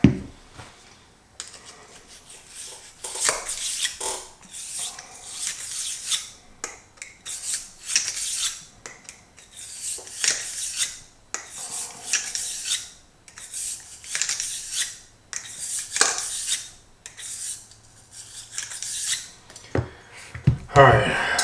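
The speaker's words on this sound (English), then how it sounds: "now we've just got to scrub out this barrel" Brisk scrubbing of a Smith & Wesson revolver barrel with a brush, repeated raspy strokes in uneven bursts close up, broken by short pauses and a brief spray.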